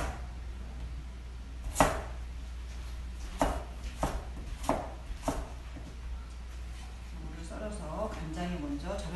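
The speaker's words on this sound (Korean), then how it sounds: "그래서 무를 먼저 썰어서" A kitchen knife cuts a Korean radish into thin sticks on a board, with about five distinct chopping thuds spaced unevenly over a steady hum, and faint speech near the end.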